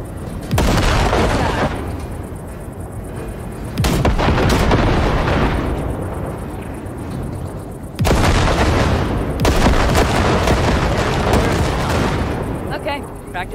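Repeated heavy explosions blasting ship wrecks in the video game Cyberpunk 2077, loud booming blasts in roughly four-second waves with rumbling decay, no talk.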